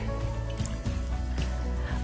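Baking soda is stirred into a bowl of water with continuous sloshing and swirling, close and steady, broken by a few soft clinks throughout.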